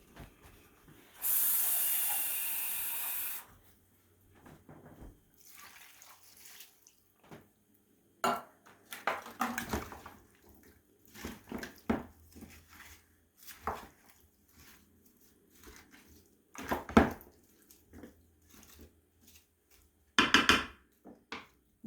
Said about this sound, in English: I'm going to put about a 1/2 can of water in it